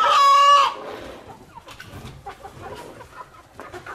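A rooster in a backyard coop lets out one loud, close crow for the first half second. Softer clucking from the hens follows, and scattered rustling and movement run underneath.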